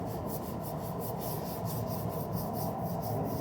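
Steady back-and-forth rasp of sandpaper on a sanding block worked over a car's front fender in auto bodywork, even rhythmic strokes close up with no talking.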